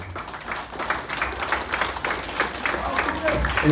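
Wedding guests clap for the best man at a Bulgarian wedding celebration, a steady patter of applause throughout with a voice talking over it.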